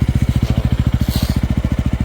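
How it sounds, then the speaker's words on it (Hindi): A Yezdi Roadster motorcycle's exhaust pulses loudly at idle with a rapid, even thump-thump beat, close and steady with no talking. "इसका एग्जॉस्ट मोड 2 सेकेंड सुनाता हूँ"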